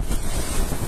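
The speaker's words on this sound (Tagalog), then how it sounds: "Bibis na hangin." A brief burst of strong typhoon wind from Super Typhoon Odette (Rai) in the Philippines roars and buffets against the microphone, a dense, rushing noise with no other sounds.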